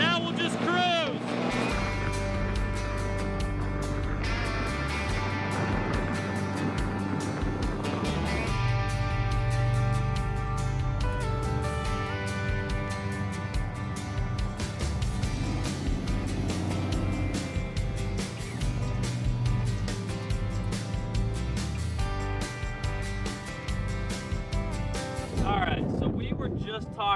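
A recovered vehicle drones along steadily at cruising speed after a fuel pump fix, its engine a constant rumble mixed with wind noise over the whole stretch.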